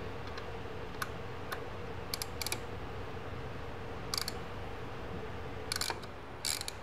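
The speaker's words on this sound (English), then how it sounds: "Now I'm gonna tap this hole with our awesome little tap holding socket." Threads are tapped into a hole with a tap held in a socket during a Honda Civic EG K-swap build. Short bursts of ratcheting clicks come at irregular intervals over a low, steady background hum.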